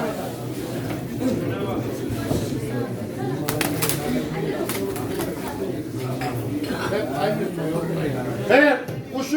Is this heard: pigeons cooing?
yes